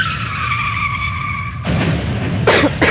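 Car sound effect of tires skidding as the car rolls: a loud, sustained screeching squeal under engine roar that gives way to harsher scraping and rumbling bursts.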